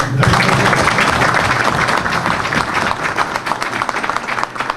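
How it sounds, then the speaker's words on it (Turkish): Dense audience applause at a political candidate's event, a large crowd clapping steadily and loudly, tapering slightly toward the end. "Siyasetçi heyecanlanınca alkış onu rahatlatır."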